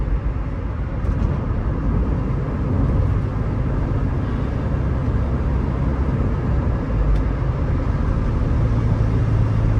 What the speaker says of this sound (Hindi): गाड़ी की शिफ्टिंग बहुत स्मूथ है माशाल्लाह, आपने देखा।